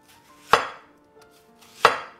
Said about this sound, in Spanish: Cortamos la cebolla.